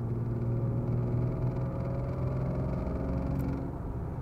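A 1992 BMW 320i E36 engine drones steadily while driving gently through town, a smooth low hum with a faint rise in pitch, continuous and fairly loud inside the car.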